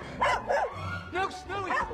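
A dog gives a few short yips and barks in quick succession, close by, with a person's voice mixed in around them.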